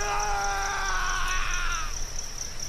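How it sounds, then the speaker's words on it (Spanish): A woman's harrowing scream, a long wavering high-pitched cry that holds steady for about two seconds and then thins out over a background hiss, heard alone without talk. "Ella lanzó un desgarrador grito"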